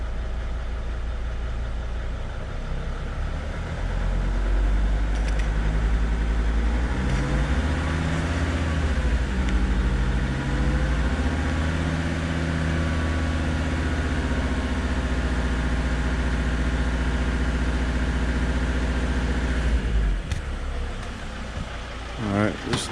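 Mercedes T1N Sprinter van engine held at a steady elevated rev for most of the run, a loud continuous drone with shifting tonal harmonics, settling back near the end.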